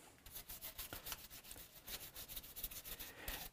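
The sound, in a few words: rubbing finish coats onto a Hofner Galaxie guitar body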